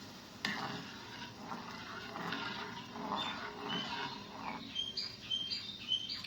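Pasta being stirred with salt in a pan for a pasta-and-noodles dish, a soft continuous scraping and sizzling close by, with faint chirping in the background.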